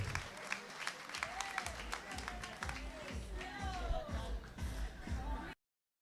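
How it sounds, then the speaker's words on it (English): Applause at a provincial excellence awards ceremony for the Man of the Year, a police sergeant: scattered, close claps over crowd murmur and shuffling, with voices and some tonal sounds, ending abruptly. "Put your hand together for our Man of the Year"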